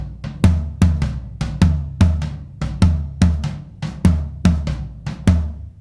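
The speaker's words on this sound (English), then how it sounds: "The majority of this groove is just alternating sets of doubles as eighth notes between our toms" Drum toms play a swung groove of alternating doubles in eighth notes, the sharp hits landing close and loud in a steady, bouncing pattern.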